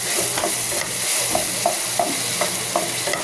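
Garlic frying in butter in a pan for a creamy spaghetti sauce gives a steady close sizzle, with soft rhythmic scraping taps as it is stirred, no voices.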